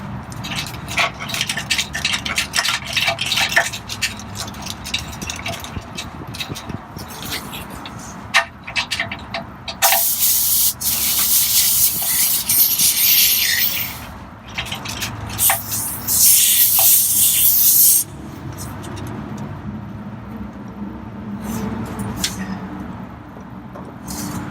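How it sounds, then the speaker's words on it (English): Compressed air hissing into a Reese Goosebox gooseneck hitch on a 2018 RAM 2500 Cummins, coming in loud bursts of spray-like rush that start and stop over about twenty seconds under steady background noise. "all I'm gonna do now is just add the air to the Reese Goosebox. It's gonna be a little loud."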